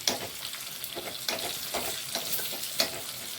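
Onions brown in a pan for avarakkai (broad bean) sambar, giving a steady close sizzle with bursts of stirring scrapes, alone without talk.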